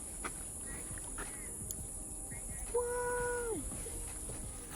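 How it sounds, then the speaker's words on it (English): Rainforest ambience in Manuel Antonio National Park, Costa Rica, with a constant high insect whine, soft scattered rustles and a clear descending animal call midway, all fairly faint. "Guys, listen. This is the sound of the jungle."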